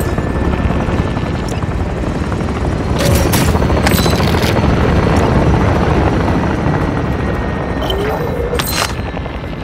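Helicopters in Warzone 2.0, their rotors thumping loud and continuous, overlaid by distant booms and gunfire, with radio voices speaking.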